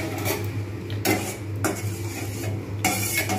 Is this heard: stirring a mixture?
yes